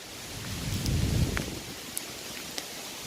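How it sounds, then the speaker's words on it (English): Heavy rain falls steadily on a trail near an Appalachian Trail shelter in Virginia as a broad, dense hiss with a low rumble swelling in the middle and a few sharp drips, with no talk. "Ooh, that's some serious rain."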